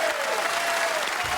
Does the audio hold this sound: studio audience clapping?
yes